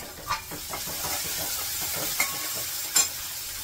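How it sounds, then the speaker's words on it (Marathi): Fresh coriander goes into hot oil in a pan with sautéed onion and tomato, giving a quiet, continuous sizzle and hiss. Several soft stirring scrapes and a few light clicks sit on top of it. "त्यामध्ये घालते कोथिंबीर, तेलामध्येच कोथिंबीर टाकली आता"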